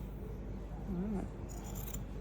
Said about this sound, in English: So now we'll cut these squares out.